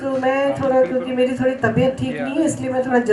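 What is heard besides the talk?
None of the usual background noises is heard.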